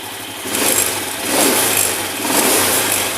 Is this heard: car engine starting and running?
yes